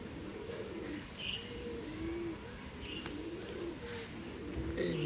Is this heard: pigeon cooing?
yes